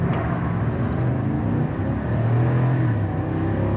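A Chevrolet Silverado ZR2 truck pulls hard from a standstill, its engine note rising steadily through a gear change amid tire and road whir, heard from inside the cabin with no talking.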